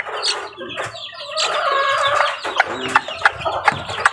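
A chick kept by a backyard flock alongside chickens on a rainy day, with close, loud repeated chirps and clucks in quick irregular bursts and no talk over them.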